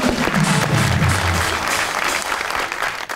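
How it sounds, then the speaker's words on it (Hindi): Studio audience applause on a Pakistani talk show, a full, continuous clapping that carries through the whole moment, with a brief voice at the start underneath. "इसकी तालियां।"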